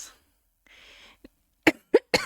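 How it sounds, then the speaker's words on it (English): A person who is sick coughs three times in quick succession, sharp close bursts preceded by a soft breath, in an otherwise quiet room. "Sorry, I coughed."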